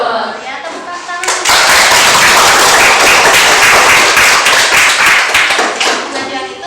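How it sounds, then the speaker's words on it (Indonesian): Classroom applause during a teacher-led lesson: a group of students claps steadily and loudly for about five seconds, following brief talk at the start and fading out toward the end. "Ya, tepuk tangan."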